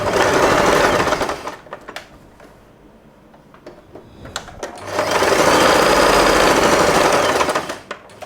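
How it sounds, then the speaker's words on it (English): A sewing machine stitching along a line on fabric for a puffy scrunchie, running in two long steady bursts of fast, even mechanical chatter with a short quieter pause of clicks between them. "I have sewn all along the fabric with the line as the guide."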